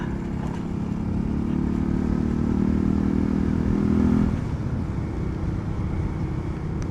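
Euro Rock R125 motorcycle ridden over a rough, badly broken road, its engine a steady close drone with a strong low hum that eases off after about four seconds, over constant road rumble.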